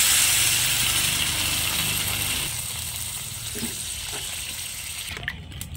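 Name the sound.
water added to fried masala in pan for fish curry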